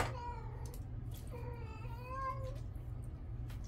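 A cat meows several times indoors at close range, with drawn-out rising and falling cries over a steady low background hum; no one speaks.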